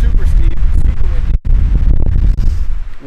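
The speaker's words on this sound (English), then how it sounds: "Wind's just howling in our face though" Strong wind howls and buffets the microphone on steep mountain terrain during a mule deer hunt, loud continuous rumbling gusts with one brief drop-out midway.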